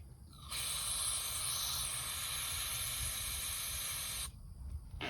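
Fuel squirts through a hose into the carburetor bowl of an old Chevy 216 six-cylinder engine, a steady, close hiss that starts abruptly, holds evenly for about four seconds and then cuts off.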